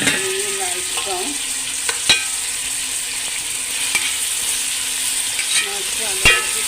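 Chopped onions frying in 1 to 1.5 spoons of oil until light brown, a steady close sizzle with a few sharp clicks as a spoon stirs and scrapes the pan, no talking.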